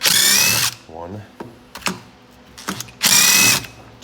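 A power driver backs out T27 screws on a Stihl FS55 gas string trimmer, with two loud whirring bursts at the start and end of the clip, separated by quieter clicks and handling noise, and a brief spoken count in between.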